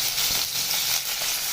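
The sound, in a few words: onions frying in hot oil with mustard seeds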